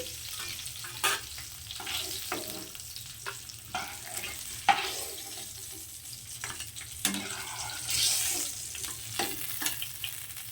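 Fish frying in oil in a pan, sounding as a soft bubbling sizzle broken by irregular scrapes and clinks as pieces are turned and lifted out, close and moderately quiet.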